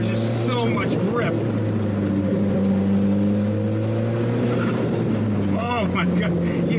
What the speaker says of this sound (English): you hear that wastegate, that blowout valve sound